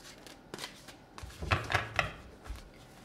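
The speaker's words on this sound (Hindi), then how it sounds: "I need to shuffle again, there are lots of cards" A deck of tarot cards is shuffled by hand, giving several quick riffling bursts and soft slaps close by, with brief pauses between.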